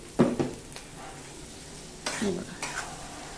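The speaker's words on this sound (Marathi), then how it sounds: "हा कांदा मस्तपैकी शिजवून घेऊया." Onion cooks in a pan for Maharashtrian eggplant bharit, with a quiet sizzle broken by two short bursts of spatula scraping and stirring.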